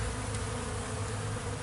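Honey bees from a hive colony buzz in a dense, steady drone close by, with no talking.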